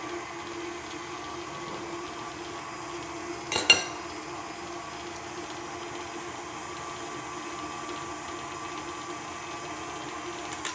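A stand mixer whirs steadily as it beats molasses spice cookie dough, a constant close motor hum with one brief louder knock partway through and no talking.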